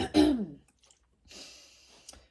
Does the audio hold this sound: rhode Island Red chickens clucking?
no